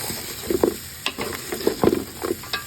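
Pig trotters being mixed with soy sauce, vinegar and sugar in a pan, soft irregular stirring scrapes and wet clatter over a faint background hiss, close by.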